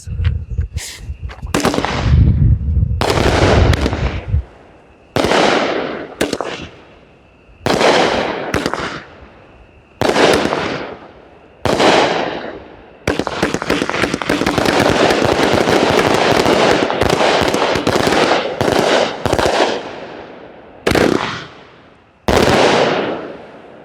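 Alien Uprising fireworks by Brothers Pyrotechnics firing outdoors, a loud rapid sequence of cracking bursts and booms with short gaps, building to a dense continuous barrage mid-sequence before separate shots resume.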